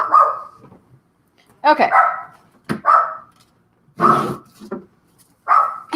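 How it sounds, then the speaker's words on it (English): A Chihuahua barks in sharp, close bursts, roughly five yaps spread across a few seconds with short pauses between them, and a person speaks briefly among the barks. "She is probably barking at birds."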